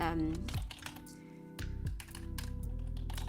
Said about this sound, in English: So I'm just gonna type in